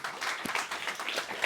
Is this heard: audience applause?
yes